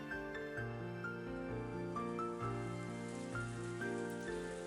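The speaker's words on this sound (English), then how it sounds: "she was wrapped up in the soft sound of the rain" Soft rain patters steadily at low volume beneath gentle sustained music in a visual novel scene, with no voices.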